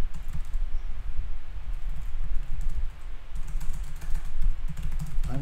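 Steady, rapid typing on a computer keyboard while a Facebook message is written, a dense close clatter of keystrokes running unbroken for the whole stretch with no talking.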